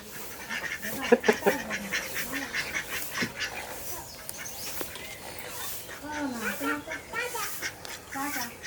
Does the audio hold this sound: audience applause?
no